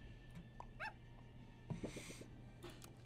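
A cartoonish puppy yip and whimper effect from the Super Auto Pets video game, a few short high bursts of yapping, quiet and without talk.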